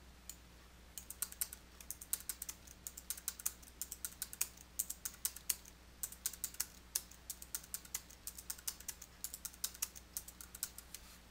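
Steady, brisk keystrokes tap on a computer keyboard while budget amounts are entered in QuickBooks Desktop Pro 2019, with quick irregular clicks over a faint low hum.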